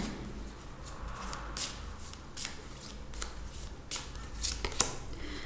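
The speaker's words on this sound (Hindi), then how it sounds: "Let's get you one card from the Shiva Oracle." An oracle card deck is shuffled by hand and a single card drawn, with soft, close riffling and quick flicks of card stock in a quiet room.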